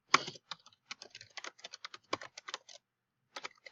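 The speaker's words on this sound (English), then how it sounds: "So I'm going to keep typing in stuff until this bar turns green." Rapid keyboard typing in irregular bursts of clicks, close and clear, with a short pause before a final flurry of keystrokes.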